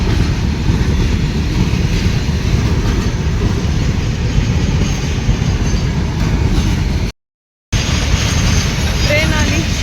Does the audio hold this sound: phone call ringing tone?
no